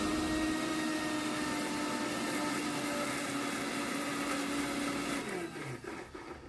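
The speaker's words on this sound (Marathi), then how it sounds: "मिक्सरमध्ये पालक व्यवस्थित बारीक होण्यासाठी त्यामध्ये मी साधारण दोन चमचे पाणी टाकलेलं आहे आणि पुन्हा मिक्सरमधून फिरून घेत आहे" A mixer grinder whirs loudly and steadily as it blends spinach with about two spoons of water into a paste for palak paratha, then winds down near the end.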